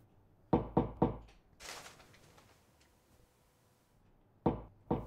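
Knocking on a door, with two bursts of three sharp, close raps separated by a pause filled with faint rustling, then two more knocks near the end.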